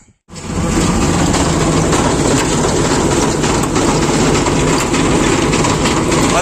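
A loud, continuous low mechanical hum with broadband rattling vibration from a tractor-driven auger, droning without pause for several seconds.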